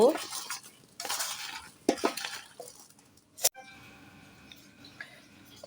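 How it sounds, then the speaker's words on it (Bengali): Olives being mixed by hand with turmeric and salt for pickle, a few bursts of wet rubbing and stirring separated by pauses, plus one sharp clink of a utensil against a bowl. "হলুদ আর লবণ দিয়ে জলপাই ভালো করে মেখে নিয়েছি"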